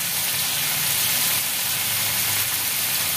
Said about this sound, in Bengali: একটুখানি এটাকে একটু ভাজা ভাজা করে নেব